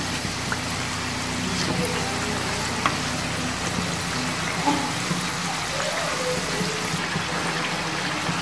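Sweet somas deep-frying in hot oil, a steady broadband sizzle with soft bubbling crackles running continuously at moderate loudness throughout.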